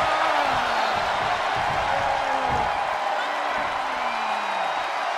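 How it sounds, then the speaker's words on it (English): A capacity arena crowd in the WWE 2K23 wrestling game roars in a continuous, dense wash of cheering and whooping, with a dramatic voice under it. "you hear this capacity crowd following you on that journey"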